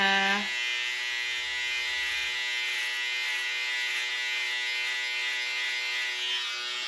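Close, steady electric buzz of a hair trimmer running continuously at an at-home haircut, with a brief lower rumble at the start as the corner of the blade works in.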